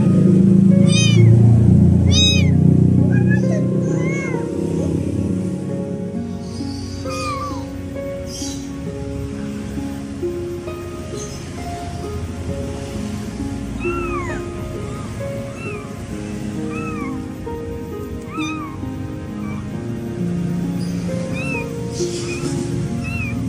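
A maggot-infested stray kitten meows repeatedly in short high cries over steady ambient noise, with a louder rumbling burst at the start and no talking.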